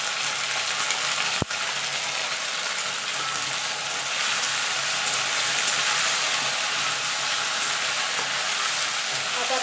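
Ground ginger and green chili hit frying oil in a pan, a continuous bright crackling sizzle with one sharp clack early on and no talking.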